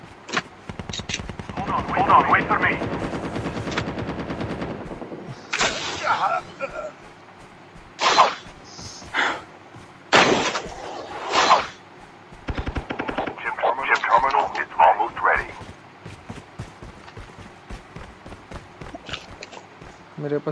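Automatic weapon fire in a Call of Duty Mobile battle royale match, loud bursts of rapid shots repeating through the stretch with gaps between volleys, while a player talks over the action throughout.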